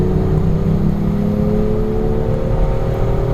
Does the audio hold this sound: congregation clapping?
no